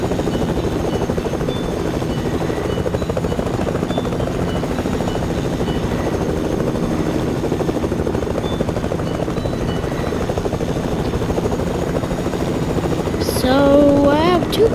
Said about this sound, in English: I got this helicopter.